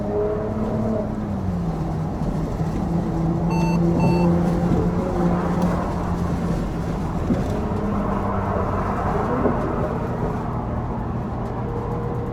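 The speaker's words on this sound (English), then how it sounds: "The downshift sound actually pretty amazing, to be honest." Mercedes-Benz SL450 with a twin-turbo V6, its turbos mounted inside the V, heard from the cabin as the engine note swells and shifts pitch through downshifts under steady road and engine noise, with a few brief electronic chimes.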